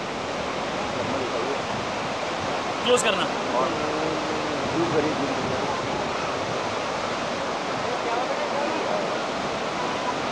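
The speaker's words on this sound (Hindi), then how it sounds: "हम इस तरह खड़े हैं झरने के पास जो कि एक नेचुरल झरना है यहाँ पर का।" Natural waterfall beside the trail to the Darma valley, a steady broadband rush of falling water filling the scene throughout, with a person speaking briefly over it.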